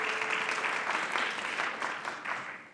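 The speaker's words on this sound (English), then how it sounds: "And we give her a big round of applause." Audience at a doctoral education event in Finland clapping steadily for a few seconds, a dense even patter of many hands at moderate loudness that tapers slightly toward the end, with no talking over it.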